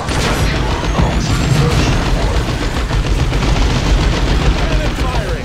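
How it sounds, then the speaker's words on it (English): Cannon fire and explosions from Dawn of War II, with Ork armor battling around the Typhon Primaris: a steady, loud barrage of booming gunfire and blasts that fills the whole stretch, while a voice can be heard faintly under the din. "Cannon firing! Clear the target area!"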